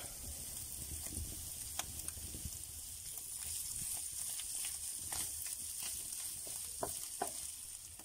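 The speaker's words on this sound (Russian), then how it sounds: "Фарш у нас обжарился." Minced meat frying in a pan over an open fire outdoors in a village, a steady soft sizzle with scattered small crackles and pops throughout, fairly quiet and without talk.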